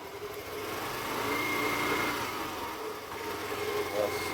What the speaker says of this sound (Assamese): ইঞ্জিন চাউণ্ড ঠিকেই আছে এইটো চাবি